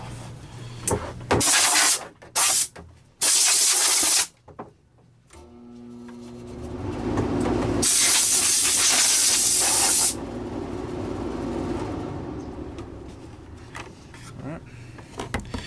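Compressed air blasts dust off parts of a Miele S2000 vacuum cleaner during repair, loud close hissing bursts in short repeated shots, then a long sustained blast with a whining tone, tapering to softer handling noises.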